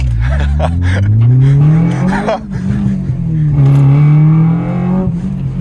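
A 250bhp Honda Civic Type R EP3 is driven hard, its engine climbing and falling through repeated loud revs and gear changes, with excited voices over it.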